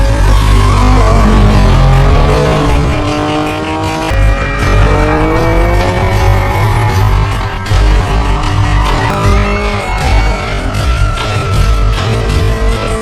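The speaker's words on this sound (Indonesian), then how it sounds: "Mereka pun melakukan balapan drifting di sana." Cars drift through a street race in an action film, engines revving hard with sweeping pitch and tires squealing, a loud, dense, continuous roar from start to finish.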